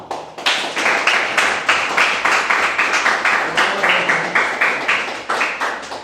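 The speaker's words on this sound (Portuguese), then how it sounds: "As palmas louvam ao Senhor Jesus Cristo" A church congregation claps in praise during a teaching service, a steady rhythmic volley of hand claps repeating evenly about three times per second, loud and continuous with no talk over it.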